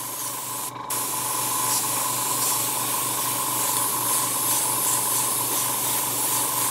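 A steady, even hiss of spray paint dusted lightly over a stencil, continuous and close, with only a brief break near the start and no talking.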